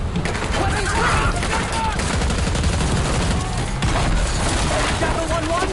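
Sustained gunfire and explosive booms in the Call of Duty Black Ops 6 campaign, continuous loud bursts of rifle and machine-gun fire with radio-style voices talking over the battle.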